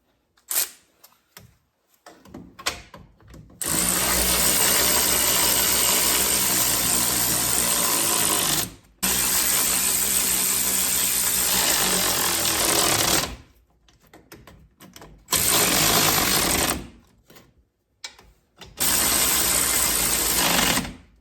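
Power-tool-style mechanical whirring while wheel hub bolts are tightened during a DIY wheel bearing replacement on an Infiniti Q50, coming in loud sustained bursts of several seconds separated by brief quiet gaps, with no speech.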